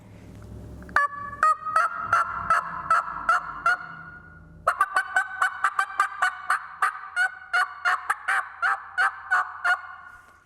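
A mouth call imitating turkey hen yelping: a short series of loud, raspy, evenly spaced yelps, then a longer, faster run of rhythmic yelps, played alone and up close.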